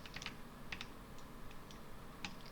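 Soft computer keyboard key presses during 3D sculpting software work, a few faint isolated clicks spaced irregularly over quiet room noise.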